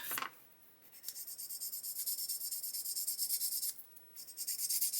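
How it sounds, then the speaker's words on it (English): A coarse sanding stick rasps over the metal of a 1/8-scale Pocher Porsche 917 model to bring it back to bare metal, heard as close, rhythmic back-and-forth scrubbing strokes with two short pauses and no talking. "I'm going to sand that down to get back to bare metal. Let's get my coarser stick on it."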